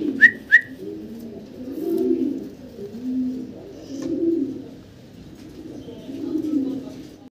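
Fancy pigeons coo in slow, repeated low rolling phrases, close and steady, with two sharp whistle-like chirps at the start.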